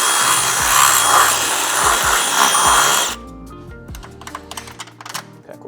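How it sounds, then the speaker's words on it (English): A power drill bores out a hole in a Mercedes Sprinter bracket, whining loud and steady for about three seconds before stopping, followed by a few light clicks and taps. "So we'll drill this out a little bit"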